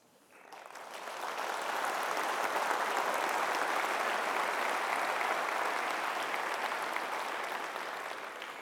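An audience at a doctoral graduation ceremony breaks into sustained applause, swelling in over the first second or two and holding steady, many hands clapping at once.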